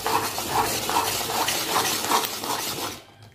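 A spoon stirs ghee into a thick khoa and fresh coconut barfi mixture in a pan, a steady rhythmic scraping repeated about twice a second, close and continuous until it stops near the end, no talking.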